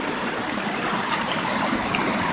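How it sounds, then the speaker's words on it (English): Water flowing in a natural water hole in El Dorado County on a July evening, a steady, loud rushing stream with no voices. "But just look at this magnificent water hole here."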